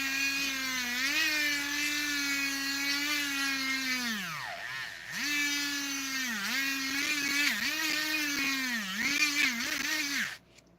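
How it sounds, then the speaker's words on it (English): A power drill whines steadily while drilling into a masking tape creature, its pitch sagging and recovering under load, briefly stopping midway before running again, close and continuous. "You have to drill it."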